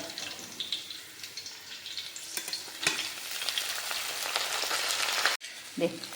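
Minced meat frying with curry leaves and green chilli in a pan, a steady close sizzle with scraping stirs that build in intensity, briefly broken by a short pause.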